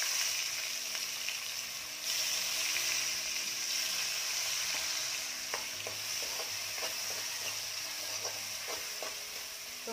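Finely chopped tomato being sautéed in Kolhapuri onion-garlic masala in a pan for a Malvani-style egg curry: a steady, soft sizzle throughout, with occasional light spoon taps and scrapes.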